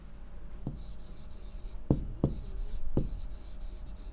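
A teacher writes an answer by hand on a board, giving quiet scratchy strokes broken by four distinct taps spread unevenly, close by and with no voices.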